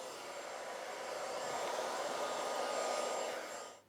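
A hairdryer used with a brush to finish a keratin Brazilian blow dry gives a steady, close whooshing roar that swells slightly mid-way and cuts off near the end, with no voices.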